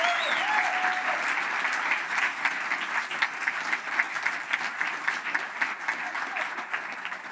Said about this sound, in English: they deserve a second applause for what they've done